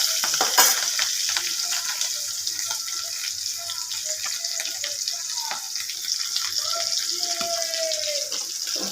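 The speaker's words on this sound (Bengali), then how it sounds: "আলুগুলো সাতলানো হয়ে গেছে।" Potatoes sauté in a hot pan, a close, continuous sizzle with a few scraping stirs, no voices over it.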